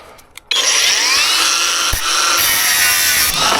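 An angle grinder cuts through the rusty rear end of a converted bus, a loud, sustained abrasive whine that starts abruptly after a brief quiet knock and runs steadily with one sharp thump partway through.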